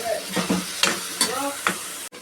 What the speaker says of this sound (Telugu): ఇది పచ్చివాసన పోయేంత వరకు వేపుకుంటాను